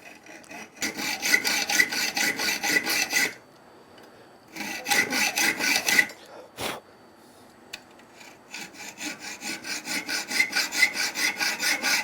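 Slots being cut by hand in mild steel make bursts of fast, rhythmic rasping strokes, close and fairly loud, with two short pauses between runs.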